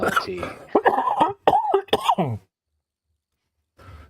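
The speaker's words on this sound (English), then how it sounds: "No, I've just got a cough." A few harsh, throaty coughs in quick succession, close to the microphone, followed by silence and a faint breathy sound at the end.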